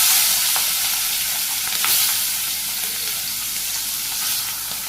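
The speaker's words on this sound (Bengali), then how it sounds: "তেল গরম হয়ে গেছে, মাছগুলো ছেড়ে দিই।" Fish frying in hot oil in a wok in a Bangladeshi village kitchen: a steady, loud, broadband sizzle with a few sharper crackles and spits, heard up close with no talking.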